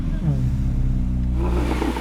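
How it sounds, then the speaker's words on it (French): A Porsche 992 GT3 RS with a 4-litre flat-six engine revs up close by, its rising harmonic drone climbing steadily over two seconds before a rougher, louder roar takes over. "c'est un moteur flat 6 de chez Porsche, d'accord, 4 litres, 6 cylindres"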